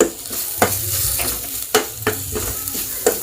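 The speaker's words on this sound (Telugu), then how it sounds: "ఈ అల్లం వెల్లుల్లి పేస్ట్ కాస్త పచ్చి వాసన పోయేంత వరకు వేయించుకుందాం" Ginger garlic paste and onions fry in a pan for a tamarind prawn curry, a steady loud sizzle broken by several sharp scraping stirs of a spoon against the pan.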